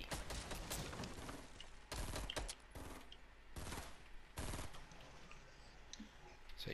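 Gunfire in the video game Fortnite comes in rapid bursts of repeated shots with short gaps between volleys, fairly faint in the mix.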